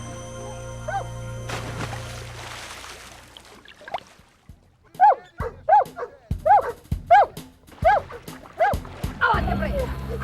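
Water rescue dogs bark during a rescue demonstration on a shore, a series of about eight sharp, close barks in quick succession following quieter whimpers and noise, with someone narrating at the start.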